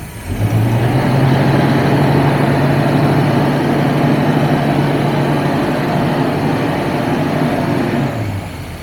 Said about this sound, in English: Sounds pretty mean back here. Definitely has some sort of modified exhaust on it.